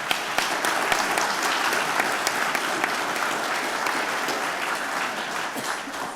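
Audience at a senator's town hall in Eureka applauding local police and the sheriff, a full, even burst of clapping from a sizable crowd that holds steady for about six seconds.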